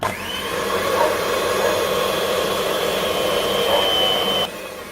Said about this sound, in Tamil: அது வரைக்கும் நம்ம பிளெண்ட் பண்ணணும்.